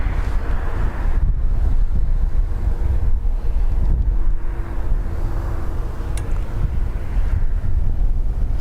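Strong wind buffets the microphone on a rooftop overlooking Dublin Airport, a loud, steady roar with gusty surges and no voices.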